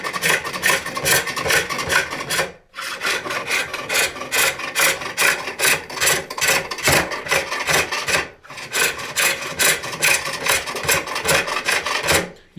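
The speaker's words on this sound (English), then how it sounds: "You can hear it grabbing a little bit if I push it too hard." A hand turning tool rasps against a wooden bowl spinning on a spring pole lathe, rapid rough scraping strokes in long runs broken by two brief pauses as the pole reverses, the cut catching and grabbing now and then, close and alone.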